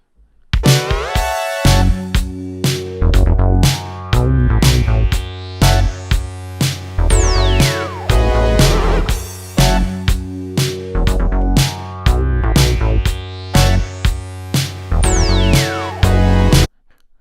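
Preset demo from the SonicProjects OP-X PRO-II synthesizer: loud, dense polyphonic chords and bass notes with sweeping filter glides, played in repeating rhythmic phrases without any talking.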